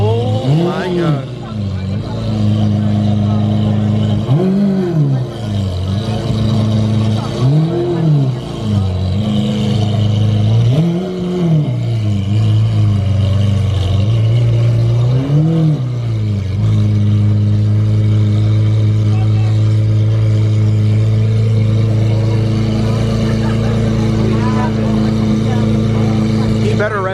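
Nissan GT-R engine revving at a muscle car meet, producing a run of repeated loud rising-and-falling revs early on that settles into a steady, high idle drone, with people talking close by.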